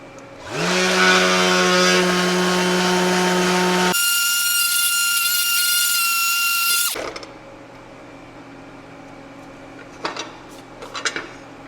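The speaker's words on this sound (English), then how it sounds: "I'm actually going to sand this surface with the DA and wire brush" A DA sander whirs loudly against aluminum for a few seconds, its tone shifting as it runs, then cuts off, followed by a few short scratchy bursts of a wire brush on the metal.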